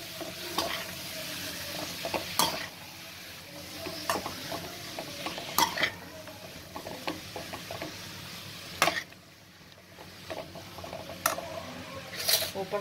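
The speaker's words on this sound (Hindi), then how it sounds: "फिर आप इसे हिला लीजिए।" Ghiya (bottle gourd) sabji is stirred in a pan with a spoon, giving repeated scrapes and clacks over a steady low sizzle, close and alone with no talking.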